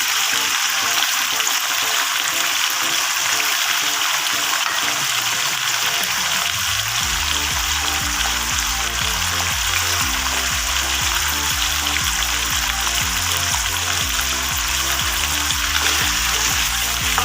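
Tomatoes go into a pan of spiced potato curry, giving a continuous loud frying sizzle with wet bubbling and stirring noises throughout, up close and with no talking.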